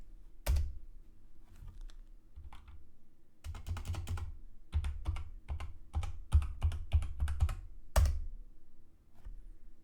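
A computer keyboard is typed on in irregular bursts of crisp, close keystrokes with short pauses between them, while a password is entered during setup of an FTP server on a Linux machine.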